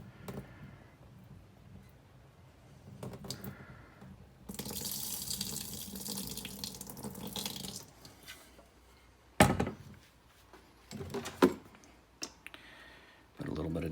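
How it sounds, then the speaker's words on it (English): Clean tap water running and rinsing through a slimline torpedo keg, gushing in bursts with clunks and knocks of the keg being handled, while a person talks over it. "Allow that clean water to come through both the in and the out."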